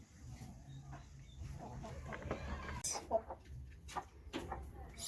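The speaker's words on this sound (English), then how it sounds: "these are the remaining chicken" Chickens cluck and squawk on a poultry farm, several birds calling in irregular bursts over a steady low farmyard hum, with a few louder sharp calls near the end.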